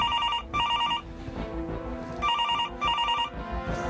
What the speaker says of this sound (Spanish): Suena el teléfono y vamos a tratar a ver cómo lo puedes contestar.